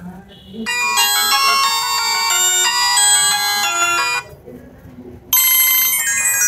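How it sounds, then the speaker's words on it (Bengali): A bright, melodic ringtone from an itel keypad phone plays loudly in a repeating electronic tune, stops briefly, then starts again. "প্রোফাইলের যে রিংটোনের সাউন্ড এটা যদি আমরা এক নজরে একটু শুনি"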